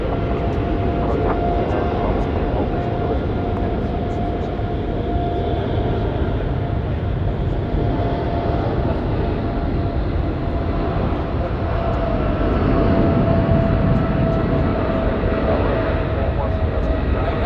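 An Emirates Boeing 777 jet at Sydney Airport at night, a broad continuous engine roar with a faint steady whine, constant and fairly loud throughout.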